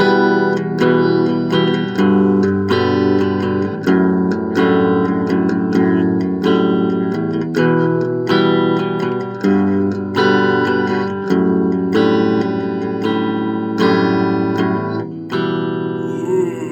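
Clean electric guitar chords played through a Marshall MG10 amp, strummed one after another at a slow, even pace, each ringing out and sustaining. No voices.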